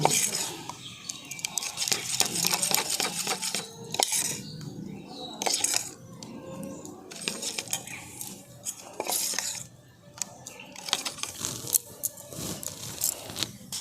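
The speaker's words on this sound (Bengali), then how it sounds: "এবার আমি ব্যাটারটাকে খুব ভালো করে মিশিয়ে নিচ্ছি।" Jaggery pitha batter being mixed by hand in a bowl in a rural kitchen, with irregular clinks and scrapes of a utensil against the bowl and wet stirring sounds, close and fairly clear.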